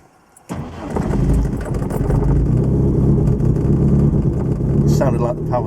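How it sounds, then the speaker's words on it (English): A Lotus Excel engine cranks and catches after stalling, then runs with a steady rumble; a thin squeal from the power steering belt briefly rises near the end while someone talks over it. "Sounded like the power steering belt was squealing a little bit there."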